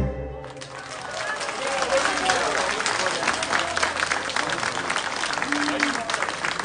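A festival audience applauds a folk singer in a dense, steady wash of clapping that holds near and loud throughout, with a few voices mixed in.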